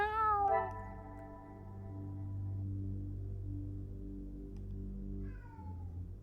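A cat meows loudly with a rising, wavering cry at the start, then a second shorter meow near the end, over a steady low hum indoors.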